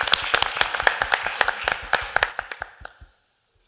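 Audience at a panel discussion applauding, with distinct sharp claps in a quick irregular rhythm that thin out and stop after about three seconds, followed by near silence.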